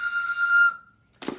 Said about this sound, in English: and if you have your train whistle